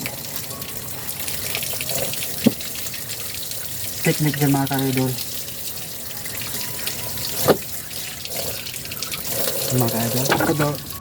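Tap water runs steadily over jackfruit while it is peeled with a knife, a close gushing stream under someone talking, with a few sharp clicks and knocks.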